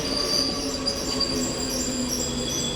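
A Vande Bharat train moves along a station platform, a steady loud rumble with high wheel squeal and ringing metallic tones throughout.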